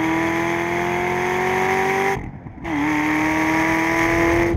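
An SRT Viper GTS race car driving fast on a track, its engine holding a loud sustained drone that cuts out briefly on a gear change or lift, then resumes.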